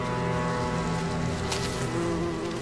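Hornets and bees buzz in a dense, steady drone during a hornet raid on a honeybee colony in the wild in Korea, loud and close with no pauses.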